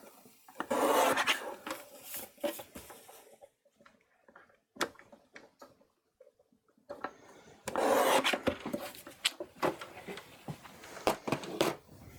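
Paper is trimmed along a stitched line during card making: bursts of close, dry rasping cuts come in two clusters, separated by quieter stretches with a few faint clicks and handling noises.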